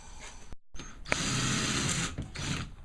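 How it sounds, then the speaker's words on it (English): A drill bores through plastic and then the metal about 3/4 inch behind it while a grab handle is fitted by a Sprinter van side door. The grinding, whirring run is close and fairly steady for nearly two seconds, with a brief pause. "So drill the plastic, and I'm going to drill through the metal, which is about 3/4 of an inch behind it."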